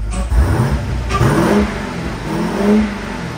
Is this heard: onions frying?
no